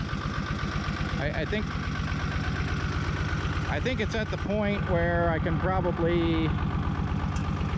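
A diesel tractor engine fitted in a 1975 Chevy stepside idles with a steady, rapid low thrum, running continuously close by while someone talks over it.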